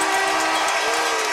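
A referee's whistle sounds at the end of a college ice hockey game between Union College and Cornell, a sustained shrill tone over loud arena crowd noise.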